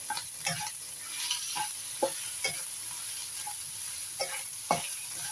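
Rice with tuna being stir-fried in a pan, a steady sizzle broken by irregular scraping strokes of the spatula, close and moderately loud with no talking.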